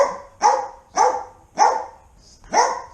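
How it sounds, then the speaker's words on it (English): A dog barks five times in a steady, evenly spaced rhythm, loud and close, with no talking over it. "Stop barking. Stop barking."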